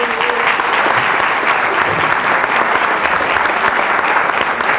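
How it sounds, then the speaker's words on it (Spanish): Audience applause for the teachers at a health promotion seminar: a dense, steady roar of many hands clapping, loud and sustained for several seconds without pause. "les pido un aplauso para nuestros profes"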